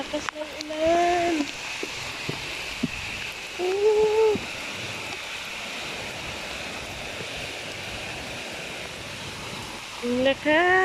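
Heavy nighttime rain in Kuwait hisses steadily outdoors while a voice talks over it in short bursts at the start, middle and end.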